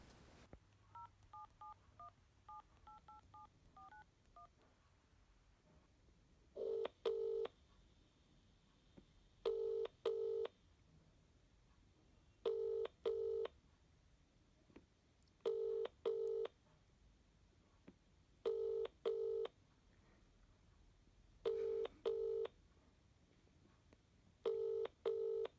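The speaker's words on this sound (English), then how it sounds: "I'll give Margaret a ring now" A landline telephone is dialled with a quick run of keypad tones, then a repeating double ringback pulses at regular intervals down the line, heard clearly through a quiet handset.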